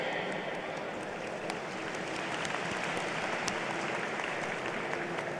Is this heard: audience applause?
yes